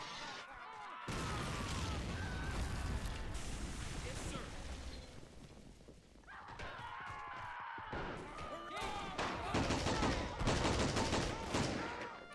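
Bursts of rifle and machine-gun fire crackle through WW1 trench warfare at Belleau Wood in a strategy game, dense rattling volleys interrupted by a brief lull, with voices talking over the battle.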